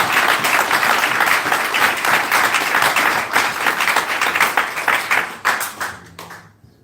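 A church congregation at Peniel Tabernacle in Montreal claims loudly and steadily in dense, continuous applause that thins into scattered claps and fades out over the last second or so.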